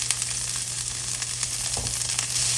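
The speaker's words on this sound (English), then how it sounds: "we're just gonna saute this for about 3 minutes" Onion and vegetables with kosher salt sauté in a pan, giving a continuous close crackling sizzle with small pops and a faint low hum underneath.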